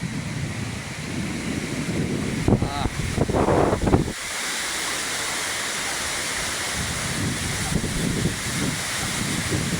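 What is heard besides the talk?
strong typhoon wind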